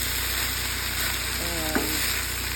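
Onions frying in a pan, an even, close hiss of sizzling oil that holds steady, with one brief faint tonal squeak partway through.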